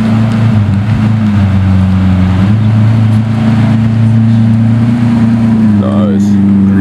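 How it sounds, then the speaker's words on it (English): A grey Lamborghini Aventador with gold wheels rolls in at a car meet, its engine giving a steady, loud low drone throughout, close by, with people talking over it. "we got Aventador rolling in"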